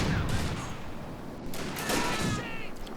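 Machine gun fire from a support weapon in a clan match video game, rapid bursts and distant gunshots blending into a dense battle din, with a commentator's voice faint underneath.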